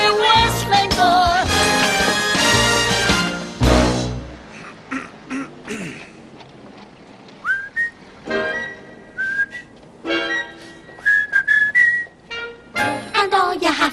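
Melodic whistling woven through a sung ballad with accompaniment, loud and close, the whistled phrases rising above the music in short runs.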